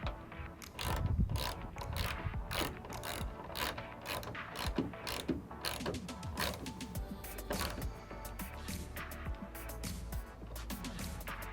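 Rapid metallic ratcheting from a 10mm wrench tightening the lower bolt of a DeeZee tailgate assist on a 2015-2018 Ford F150, clicking in steady bursts up close for several seconds with no talking.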